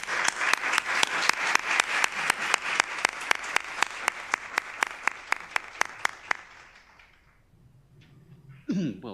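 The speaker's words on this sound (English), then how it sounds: "we should offer him a warm welcome to our university with a round of applause" Rhythmic unison clapping from a university lecture audience welcoming a speaker, sharp regular claps for about six seconds that fade out into near silence before a voice begins.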